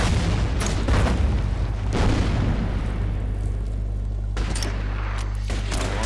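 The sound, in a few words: mortar fire in the video game Order of Battle WW2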